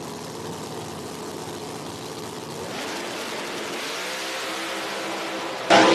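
No-prep drag race cars launch together at National Trail Raceway, a steady engine drone building to a louder roar as they accelerate, with a sharp jump in volume at the very end.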